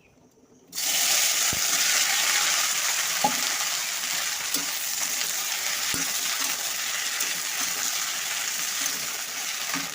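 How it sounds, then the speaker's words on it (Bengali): Sliced okra drops into hot oil in a wok and sizzles loudly, a sudden burst of frying that settles into a steady crackling hiss with occasional stirring clicks, without talk. "কড়াইতে তেল দিয়েছি তেল গরম হয়ে গিয়েছে আমি এই ঢেঁড়সটা কষে নেব"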